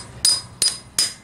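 A hammer strikes a socket to drive out a U-joint cap on a Jeep Wrangler YJ axle, three sharp, evenly spaced metallic blows heard up close.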